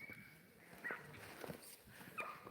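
A dog gives a few short, sharp yips and barks spaced apart, with some whimpering, fairly faint against quiet background noise, at a site with many dogs in Bonggok-dong, Daejeon, South Korea.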